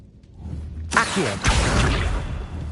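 The Accio summoning spell from the Hogwarts Legacy video game bursts in as a sudden bright magical whoosh, followed by a swelling rushing surge that lingers to the end.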